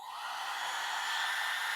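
A small electric hot air styling brush with a cone attachment runs with a soft, steady airy whir, fairly quiet and alone.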